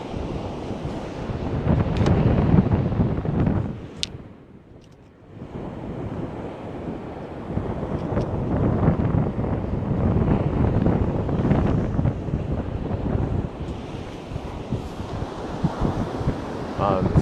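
Wind buffets an outdoor microphone at sunrise, a steady low rumble of gusts with surf-like washing that dips briefly before picking up again and running continuously throughout.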